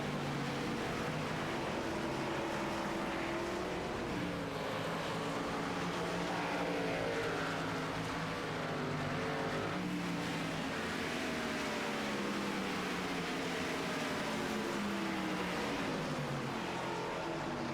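2005 Sylvania 300 NASCAR Cup Series stock cars circling the track, a continuous loud roar of engines with rising and falling pitch sweeps as cars pass, steady throughout.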